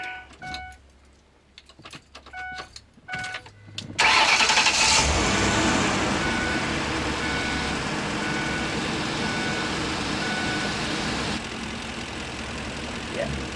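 A box truck engine with a suspected blown coolant seal cranks briefly amid a few electronic beeps, then catches and settles into a loud, steady idle that runs on without pause.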